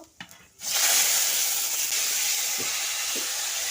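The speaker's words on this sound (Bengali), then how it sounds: "কড়াই গরম হয়ে গিয়েছে আমি তেল দিয়ে দেব শুকনো লঙ্কা আমি ছিঁড়ে দিয়েছি আর একটু পাঁচ ফুটন দিয়ে দেব কেটে রাখা টমেটোগুলো ওতে দিয়ে দেব" Chopped tomatoes dropped into hot oil in a kadai with torn dried red chillies and panch phoron, a sharp burst of loud hissing sizzle that starts abruptly and holds steady close by.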